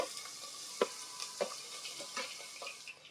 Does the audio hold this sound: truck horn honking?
no